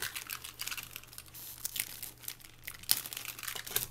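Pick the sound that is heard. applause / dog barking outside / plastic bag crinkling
plastic bag crinkling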